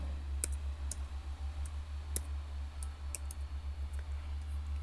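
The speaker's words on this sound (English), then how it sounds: "so I type install packages." Light clicks of a computer keyboard being typed on, scattered faint keystrokes over a low steady hum.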